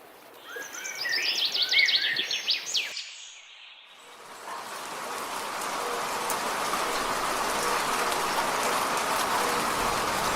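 Brief high chirps give way to a short hush, then rain sets in and falls steadily, a dense, even patter that holds close and loud to the end.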